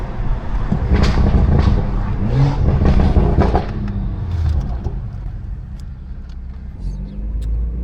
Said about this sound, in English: Listen to those shifts, though.